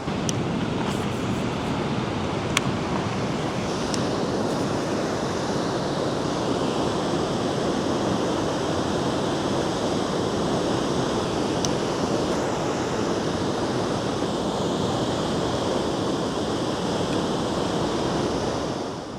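Strong river current rushing just below a dam, a loud continuous roar of churning water close by, steady throughout with no talking.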